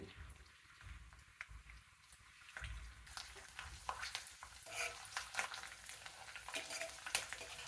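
Garlic cloves, mustard seeds, cumin and dried red chilies sizzle in hot oil for a tempering, a faint crackle that grows busier and louder partway through, with scattered sharp pops.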